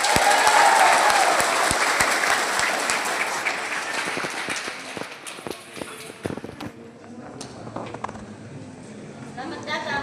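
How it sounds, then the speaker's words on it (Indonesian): A crowd at an outdoor protest rally against a geothermal project in Tana Toraja breaks into loud applause that thins into scattered claps, with chatter and voices rising as it fades. "Tepuk tangan dulu"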